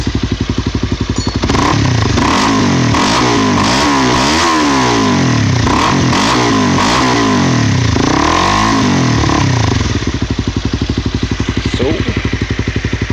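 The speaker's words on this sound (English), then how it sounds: "A Yoshi slip-on exhaust on a 2012 Honda CBR250." A 2012 Honda CBR250 with a Yoshimura slip-on exhaust revs up and down in repeated loud sweeps from a steady idle, close to the microphone, settling back to a throbbing idle near the end.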